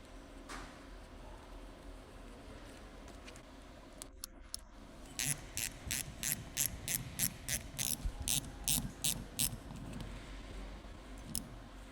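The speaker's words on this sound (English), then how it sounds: "Install the bolts and secure them." Rapid ratchet clicks tightening the retaining bolts on a Honda Civic (2016-2021) A/C compressor, a close, rhythmic run of about a dozen clicks after a brief metallic rattle.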